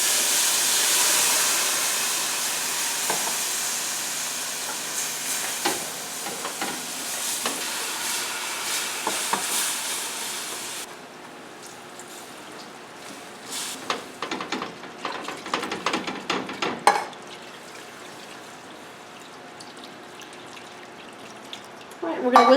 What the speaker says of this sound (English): we're going to whisk that for just another minute